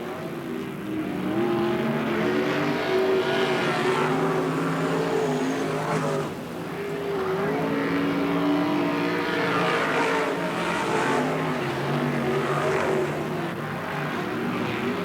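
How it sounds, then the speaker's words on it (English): Race cars lapping at Riverside Speedway in a main event, a loud, sustained multi-engine roar with shifting pitches as the cars circle, briefly dipping before swelling again. "Starting lap 22 for your leader, Dale Smith."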